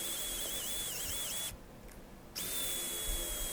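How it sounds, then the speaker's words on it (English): A power drill bores a hole into hard maple burl for a woodworm screw, a steady high motor whine that stops for under a second and then resumes, close and loud. "And I'll be using a woodworm screw, so I'm drilling a hole for that."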